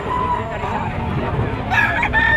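A stag rooster crows loudly and close at a poultry market in Padre Garcia, Batangas, one drawn-out cock-a-doodle-doo rising at the end over market chatter.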